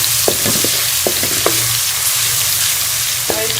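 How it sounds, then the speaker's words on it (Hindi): Garlic paste fries in ghee in a kadai, giving a steady close sizzle with scattered sharp pops and crackles across the whole stretch, no voices. "इसके अंदर हम ये लहसुन का पेस्ट डाल देंगे, इसे फ्राई कर लेंगे"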